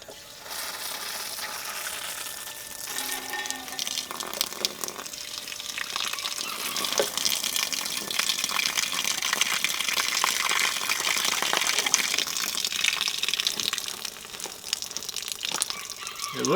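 Water pours from an Enkeeo bucket into a cane mill to wash out dirt and debris, a steady splashing gush close by that swells and rumbles for the whole stretch, with no talk.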